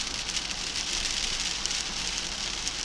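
Heavy rain shower pounding steadily on a surface, a dense loud broadband wash with no break, close and continuous, no voices.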